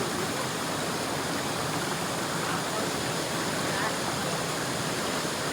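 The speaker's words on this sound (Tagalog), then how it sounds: "Welcome to Kawa Falls!" Kawa Falls, a waterfall, roars in a dense, continuous rush heard from close by, unbroken throughout.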